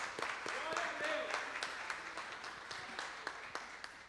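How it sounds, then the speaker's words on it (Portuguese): A church congregation at an evening service gives a round of applause, scattered, fairly quiet clapping heard at a distance with voices murmuring through it. "algo que a gente pode fazer é dar uma salva de palmas"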